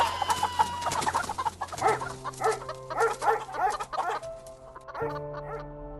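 Chickens cluck in a farmyard while a dog named Rufus barks in sharp, repeated bursts over them, the mix of squawks and woofs fairly close and busy before the barking stops.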